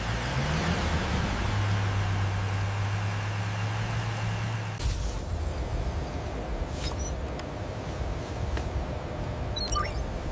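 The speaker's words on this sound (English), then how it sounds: "The engine starts, vibrating with controlled power." A car engine idles in a factory with a steady low hum that cuts off about halfway, leaving broad ambient noise and a few sharp clicks.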